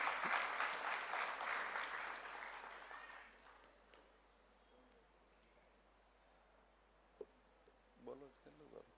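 Applause from an audience at a religious gathering, a dense burst of clapping that fades over about four seconds, followed by quiet room tone and faint voices.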